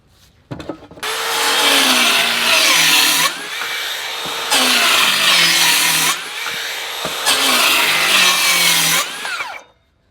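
A Metabo cordless circular saw cuts through wood in three loud, close bursts separated by short pauses, its motor pitch dropping under load and winding down at the end.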